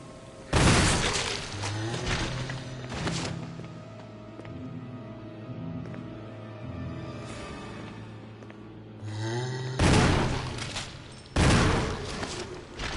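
Loud, sharp gunshots in the Resident Evil video game, a few separated blasts with echoing decay over a sustained musical game background, then two more bursts of gunfire near the end.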